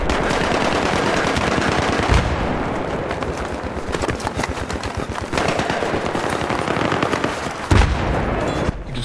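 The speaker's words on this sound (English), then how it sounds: "Oh shit, they got a machine gun!" Sustained, loud machine gun fire in the multiplayer shooter Battlefield 3, rapid bursts rattling almost without pause through the whole stretch, with a couple of heavier impacts mixed in.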